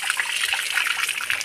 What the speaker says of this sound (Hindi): देखिए हैंडल का मूवमेंट नहीं हो रहा है लेकिन पानी निकल रहा है।